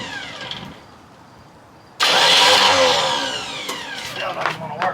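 A Chevrolet K5 Blazer with a jump pack attached cranks after a quiet pause, a sudden loud whirring starter grind that holds for about three seconds without catching, with faint talk before it.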